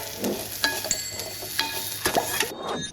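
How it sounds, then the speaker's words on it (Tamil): Onion and garlic sauté in a pan for biryani, giving a soft, steady sizzle broken by several sharp scrapes and clinks as a spoon stirs them, close and alone. "வெங்காயம் பூண்டு எல்லாமே வணங்கிச்சு"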